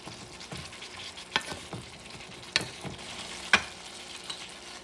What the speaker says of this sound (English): Add the meat. Make sure it's mixed well with the ingredients.